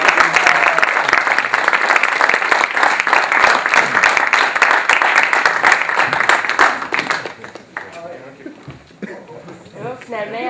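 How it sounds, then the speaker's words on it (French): A comedy show audience gives warm, loud applause for a performer, a thick sustained wash of clapping for several seconds that fades out as a voice starts talking. "on peut l'applaudir chaleureusement"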